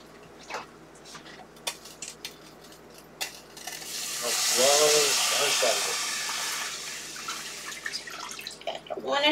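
Water pours steadily into a cooking pan for a few seconds, a broad hissing rush that swells and fades amid light clinks and drips.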